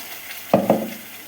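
Spice paste for paneer butter masala dropped into hot oil with asafoetida, giving two quick sharp sizzling bursts that fade into a soft hiss.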